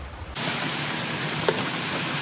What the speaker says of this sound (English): it's been a steady rain all morning